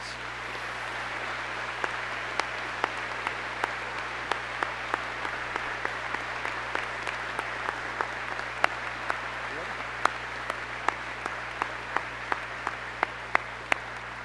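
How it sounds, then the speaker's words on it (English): An audience at a high school graduation ceremony applauds the retiring staff, sustained crowd clapping with sharp individual claps popping out over a steady wash and a faint background hum. "How about a round of applause for our retirees?"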